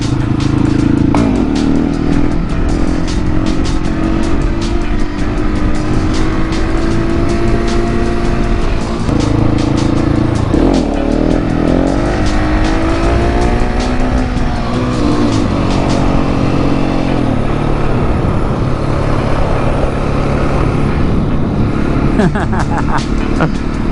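Husqvarna 701 motorcycle engine revving hard through a wheelie off-road, a loud, continuous roar that rises and falls in pitch, with wind noise throughout.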